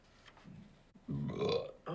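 A single burp sound effect plays from a button: a short, fairly loud, guttural belch that follows a quieter murmur.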